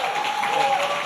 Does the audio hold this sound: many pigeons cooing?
no